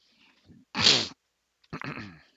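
A single sharp sneeze from a person at a tabletop game session, followed shortly by a brief spoken response.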